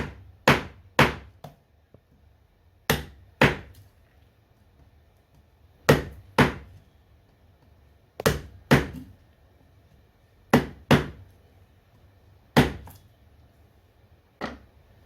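A hammer strikes the spine of a knife to baton it through wood, landing in close pairs of sharp knocks repeated at steady intervals, loud against a quiet background.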